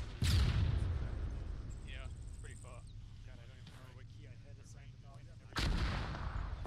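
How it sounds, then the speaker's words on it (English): Outgoing mortar fire in a military shooter game, two loud booming launches several seconds apart, with quieter gunfire-like crackle and a voice talking in between. "Mortars. Outgoing."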